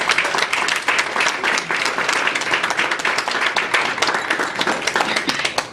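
An audience breaks into sustained, even applause at a Washington University event to welcome speaker John Coveyou, many hands clapping densely and steadily at close range without pause.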